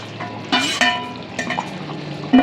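Mutton cooking in a wok as pre-fried oil is poured in, giving a soft sizzle with a few brief clatters and stirring scrapes, close up and without voices.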